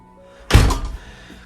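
A double-glazed front door of a house being pushed shut lands as a single solid, close thunk, followed by a short fading rattle in a quiet hallway.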